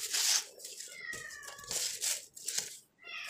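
A pet cat named Vicky meows repeatedly at close range, short rising cries spaced through the moment, over faint rustling and crinkling sounds.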